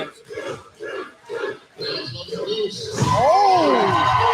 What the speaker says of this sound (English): And listen to those fans.